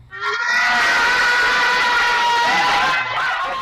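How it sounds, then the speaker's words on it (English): A class of schoolchildren at St Scholastica School in Hackney lets out a loud, bright group cheer, many high voices shouting together for a few seconds before it drops off abruptly. "Lovely big cheer."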